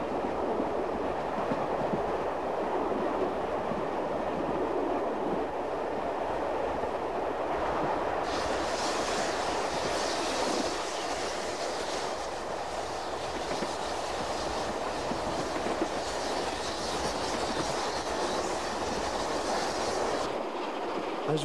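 Flying Scotsman steam locomotive 4472 rolling along rails through the Australian countryside, a continuous loud rumble with clickety-clack wheel rhythm and brighter rail noise joining partway through, running alone for over twenty seconds.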